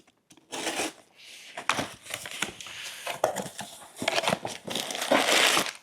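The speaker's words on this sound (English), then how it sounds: "And we'll do the unboxing." Packaging for a Paragon wheel spacer kit for a C8 Corvette is handled up close: bursts of crinkling plastic and cardboard, rustling, tearing and small taps come in uneven clusters, with no speech.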